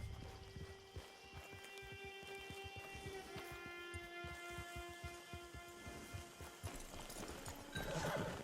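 In Red Dead Online, horse hooves clip-clop in a steady rhythm under faint ambient rain while a horse whinnies loudly near the end.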